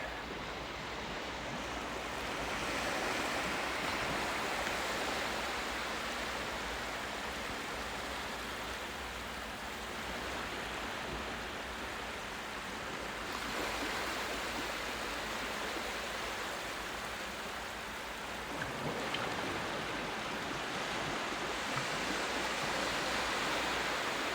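Incoming tide waves wash steadily onto Ballantrae beach, a broad, continuous surf hiss that swells and eases in slow surges, with no voices.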